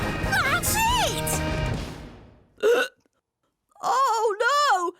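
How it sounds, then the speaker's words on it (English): A cartoon character hiccups in a Horrid Henry episode, two short sharp hics separated by silence, following a stretch of animated character speech. "Now I've got hiccups too."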